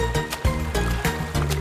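Cartoon paint splashes come in quick repeated bursts, several per second, each a wet slosh laid over a steady musical backing.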